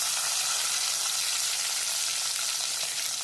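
Garlic sizzles in hot oil for a tempering of fenugreek, fennel and karuvadagam for a fish kuzhambu. The frying hiss is steady, bright and close, with no talking.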